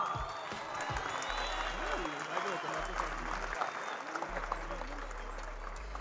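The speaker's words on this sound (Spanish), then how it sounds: "Recibamos con un fuerte aplauso al asistente técnico Rodrigo da Silva." A large audience applauds at the official squad presentation of the América de Cali football club, a sustained wash of clapping and crowd noise mixed with amplified voices and music throughout.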